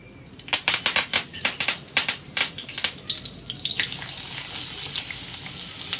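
Onion hits hot oil with curry leaves in a pan while cooking dry karandi, crackling in sharp spattering bursts that settle into a continuous close sizzle.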